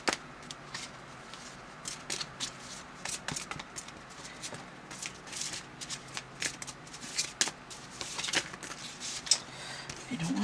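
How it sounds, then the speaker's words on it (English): Tarot cards are shuffled on a table in repeated riffling bursts, soft and close, with brief pauses and light handling noise between them. "If I didn't shuffle with my elbows on the table,"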